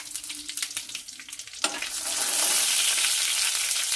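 Dried red chillies hit hot oil and burst into a loud, steady sizzle that swells and holds, after softer stirring and clattering in the pan.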